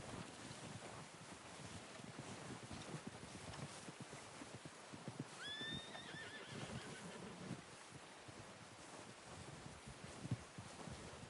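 A horse in Red Dead Redemption 2 lets out a clear whinny partway through, rising and falling, over steady wind and background rumble, with hooves shifting nearby.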